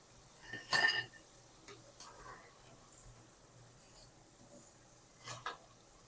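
Crispy fried Lahori aloo pakoras crunch in two short, sharp bites, one early and one near the end, against a quiet kitchen background.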